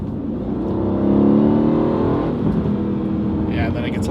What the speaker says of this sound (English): this has a twin turbo V8 out of the AMGs